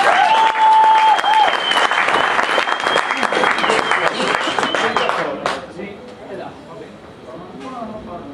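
Audience applause at a Christmas blues party concert, loud sustained clapping from a crowd that fades after about five seconds.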